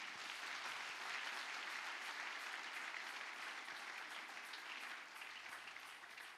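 A church congregation claps together in sustained, even applause, a dense wash of many hands at moderate distance with no break.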